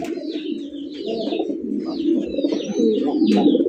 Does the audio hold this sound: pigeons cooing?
yes